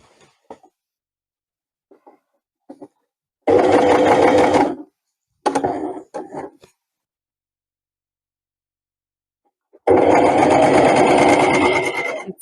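A sewing machine stitches the neckline of a travel jersey top in several separate bursts, each loud and close with a rapid mechanical chatter, split by silences and a few small clicks.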